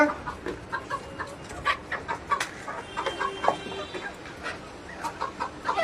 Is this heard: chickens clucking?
yes